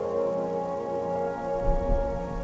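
Light spring rain patters steadily on a surface at night, a dense even hiss of drops with a few heavier splashes near the end, no voices.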